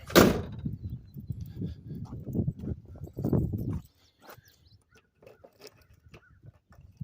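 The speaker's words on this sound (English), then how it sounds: "Let me pop this trunk." Trunk lid of a 1958 Chevrolet Impala popping open with a sharp close latch clunk, followed by a few seconds of muffled rustling and handling, then near quiet with faint small knocks.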